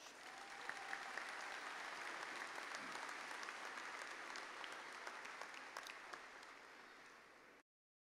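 Sustained applause from a large audience honoring graduates at Angelo State University's spring commencement ceremony, a dense, even wash of clapping lasting about seven seconds before cutting off abruptly.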